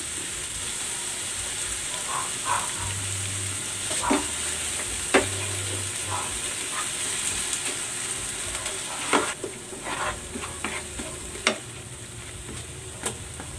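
Chicken curry with tomatoes and tomato paste is stirred in a pan, giving a steady low sizzle with scattered scraping clicks of the utensil against the pan.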